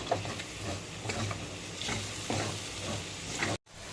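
Cashew paste sizzling and frying in a pan for chicken curry, with a steady close hiss and occasional stirring scrapes, alone and fairly loud.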